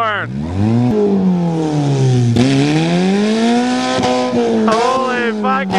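A Toyota GTS rigged to spit fire and sparks launches and revs hard, a loud, close engine note rising and falling in long sweeps with a sharp tire-scrub edge, with people shouting over it.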